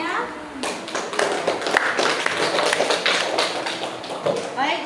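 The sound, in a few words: classroom applause for a group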